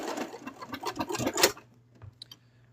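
A sewing machine stitches a small plush toy in a quick rapid run of needle strokes for about a second and a half, then stops, leaving faint clicks and handling noise.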